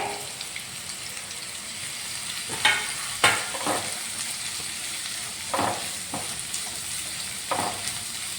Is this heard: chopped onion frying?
yes